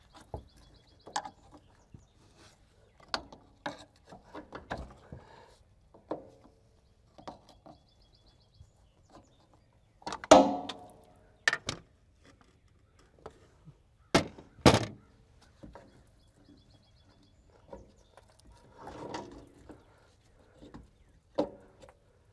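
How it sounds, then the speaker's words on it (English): A metal pry bar works an old, corroded pigtail harness loose from a semi truck trailer, giving scattered clunks and scrapes with a couple of loud, sharp snaps near the middle, close by with no talk. "Pry bar, make this a little easier."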